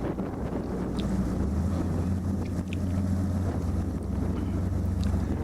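Strong wind roaring over the microphone aboard a boat while docking at a marina slip, a steady loud rush with a low engine hum underneath throughout.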